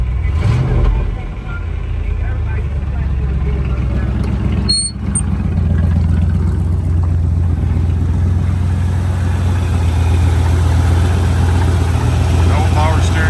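Engine of a 1971 Ford F100 pickup truck idles steadily and close by, a low continuous rumble with a brief dip early on and a short click partway through.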